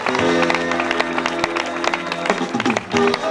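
Audience applause and crowd noise for a comedian's entrance at a live cabaret show, with dense clapping and music running throughout.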